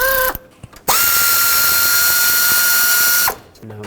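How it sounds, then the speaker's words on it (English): Power tool driving a 10mm socket to unbolt a bracket from the intake of a 1997-2003 Ford F-150, one loud sustained whirring run of about two and a half seconds, preceded by a short burst, with no talk. "we have to unbolt this bracket from the intake with a 10mm right here"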